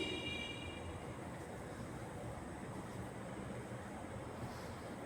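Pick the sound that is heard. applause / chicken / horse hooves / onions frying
onions frying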